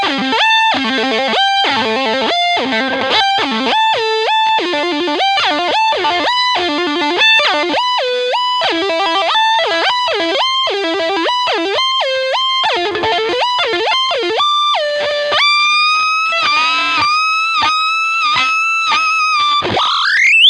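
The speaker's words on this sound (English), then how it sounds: "the solo, is the whammy set to an octave up, of course, and I'm also using, in a parallel circuit, the big muff and the overdrive" Electric guitar tapping solo from a song, run through a whammy pedal set an octave up with a Big Muff fuzz and overdrive in parallel, a loud, continuous stream of fast, squealing distorted notes with pitch bends and no voices.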